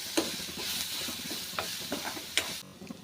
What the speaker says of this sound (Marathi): आता आपल्याला गॅस बारीक करायचा आहे आणि पुन्हा एकदा थोडंसं परतून घेऊया